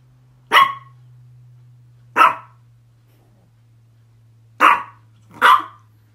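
A dog gives four sharp barks, two widely spaced and then a closer pair, each loud and close against a low steady hum with no talking.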